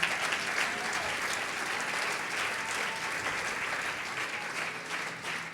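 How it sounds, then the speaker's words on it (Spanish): A church congregation claps together in steady, sustained applause that fills the room at a moderate distance and fades slightly toward the end. "Denles aplauso a la gloria del Señor."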